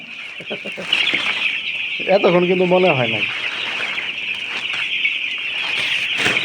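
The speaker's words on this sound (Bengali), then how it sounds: "একটু মনে হয় যে জায়গায় মুরগি আছে" Chickens cluck nearby in a poultry shed, with a brief run of clucks standing out over a steady high hum while someone talks.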